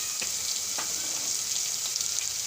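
Garlic and ginger dropped into hot oil with cumin seeds sizzle steadily in a pan, a close, even hiss with a few faint stirring taps, no voices.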